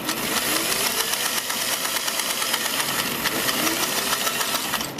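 A sewing machine runs steadily while stitching a patch pocket, a fast even mechanical whirr with rapid needle ticking, close and continuous with no talk.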